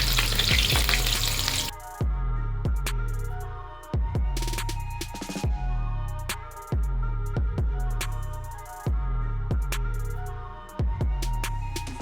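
Fish fries slowly in hot oil with green chilies and curry leaves, giving a steady close sizzle punctuated by sharp metallic clinks of a utensil every second or so.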